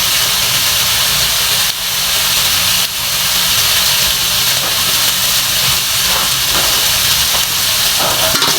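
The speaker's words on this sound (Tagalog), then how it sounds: "lakasan nyo lang yung apoy para mag-brown siya, hindi siya magtubig" Fatty pork neck browning in oil in a pan over high heat gives a steady, close sizzle with a constant broadband hiss and a few brief dips, with no voices.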